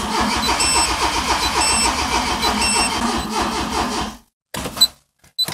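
Car engine cranking over slowly on a weak battery with ECU disconnected so it won't start, a steady rhythmic churning for about four seconds, then stopping, followed by brief clicks and faint noises.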